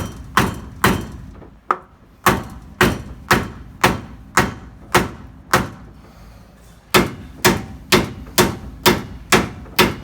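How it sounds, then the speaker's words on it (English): A metal sledgehammer pounds a block of wood during a Jeep TJ/LJ sway bar install, about twenty heavy, evenly spaced blows close up, each a sharp thud with a brief ring. "you destroy the wood with the metal sledge instead of your partner"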